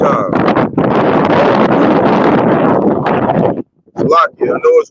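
Strong outdoor wind buffets the microphone in a steady, loud roar at a camp, then drops away as a person begins speaking.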